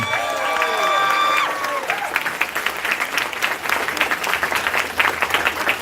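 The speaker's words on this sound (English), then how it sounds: "A big cheer for yourselves and everyone!" At the closing ceremony of the Minamicon 25 convention, the crowd breaks into cheering and clapping, with whoops and raised voices at first, then a loud, steady round of applause that continues, its claps uneven and textured.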